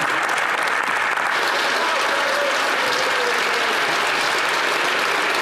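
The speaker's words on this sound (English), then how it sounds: "I've never had that much applause, Mr. Speaker" Applause fills the House of Commons chamber, a dense, steady wash of many hands clapping at an even level from start to end.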